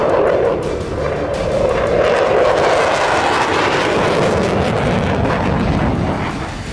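A Chinese sixth-generation fighter jet's engine roars loud and continuous throughout, a dense broadband rush with no voices over it.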